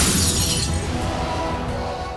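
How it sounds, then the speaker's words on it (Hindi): A glass vase topples and shatters indoors, a loud burst of breaking glass at the start that trails off into scattered tinkling fragments and low rumble, with no voices. "शीशे का गुलदान हवा से गिरकर टूट गया।"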